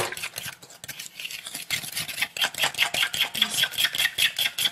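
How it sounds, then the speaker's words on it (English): Eggs being beaten into sugar and butter in a bowl make a rapid, rhythmic scraping and clicking that runs on steadily and close, with no voices. "Beat this until it's well combined."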